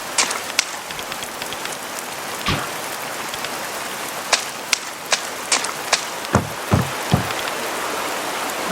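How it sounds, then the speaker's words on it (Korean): Steady rain pours in the video game A Space for the Unbound, a dense close hiss of falling water broken by scattered louder drips and splashes, with no voices. "도망 나오자 밖은 비가 내리고 있었습니다"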